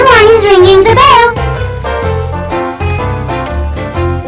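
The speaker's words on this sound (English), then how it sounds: "someone is ringing the bell" A bell rung in a toy doll play scene at a family farm restaurant: a loud wavering tone opens, then a run of bright, ringing chime notes follows in quick succession.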